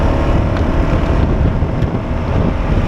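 A BMW motorcycle on a road test ride, making stop-and-go moves, produces a steady engine drone buried under loud, continuous wind rush, with no talking.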